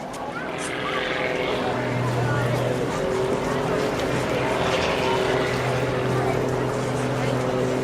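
An autogyro flies overhead at the 2013 Clacton Air Show, its steady propeller and engine drone rising and falling at middle distance while a commentator talks over it.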